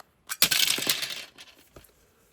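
A Zuru Smashers Dino Ice Age mini surprise egg is smashed open, a sharp cracking burst followed by crumbling, clinking fragments that trail off into a few small clicks, close and without talk.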